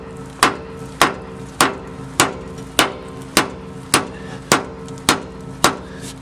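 Eleven evenly spaced metal hammer strikes ring out on a 2003 Ford F-150 ball joint, each a sharp clang with a short decay, at a steady rhythm of roughly one per half second.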